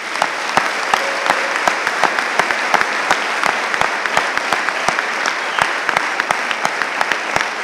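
A conference crowd applauds in praise to the Lord, steady, even clapping at moderate volume with a few sharper claps standing out, continuing without speech.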